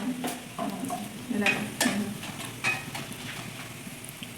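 Papad frying in a pan gives a soft, close sizzle punctuated by several clinking scrapes of a utensil on metal, with faint voices in the background.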